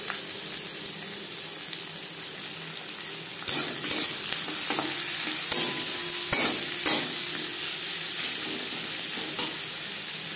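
Chopped onions frying in hot oil with a bay leaf and panch phoron, a steady close sizzle broken by occasional stirring scrapes and clinks in the pan, with no talk.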